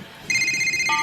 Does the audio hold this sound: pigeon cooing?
no